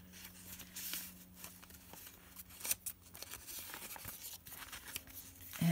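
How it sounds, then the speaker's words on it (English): A paper card is torn by hand, heard close up as a steady stretch of ripping and crinkling with a few sharper tears and paper rustles. "I just tear the writing off and put that on there"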